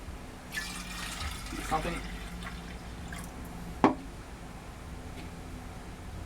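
Tea syrup for kombucha pours and drips into jars in short liquid bursts. A brief clink sounds partway through, and a person speaks quietly alongside.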